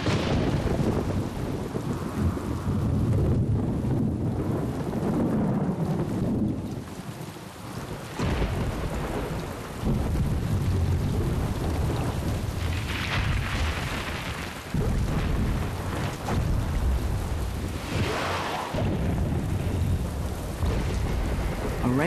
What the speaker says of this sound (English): A rainstorm can be deadly.